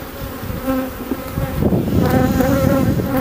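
Honeybees buzz loudly and close around an open hive during an inspection after smoking, a dense continuous drone that swells as bees circle near.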